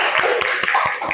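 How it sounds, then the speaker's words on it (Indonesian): Students in a classroom clap together in sharp, regular rhythmic beats, about five distinct claps in quick succession over a busy background of voices. "Tepuk tangan untuk kalian semua."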